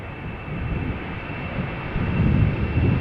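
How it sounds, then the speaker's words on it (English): A KLM Embraer 190 jet departing Amsterdam Schiphol for Oslo gives a steady engine rumble with a thin high tone, swelling louder and rougher over the last second. "This is KLM flight 1145, Embraer 190,"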